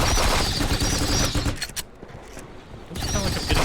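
Enemy turret gunfire in Fallout 76, sustained bursts of rapid shots that fill the opening and return near the end, with a brief quieter gap in the middle.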